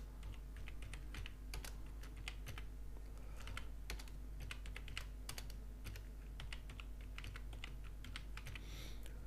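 Text is typed on a computer keyboard in Microsoft Word, with an Urdu tutorial setting. The keystrokes form a steady, quiet clatter of rapid taps that runs throughout with no one talking.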